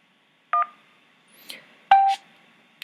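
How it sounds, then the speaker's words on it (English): Several telephone keypad tones pressed during an automated survey call, short bright beeps spaced irregularly with brief pauses between them, clear and close with no voices. "Press the hash key when you are finished"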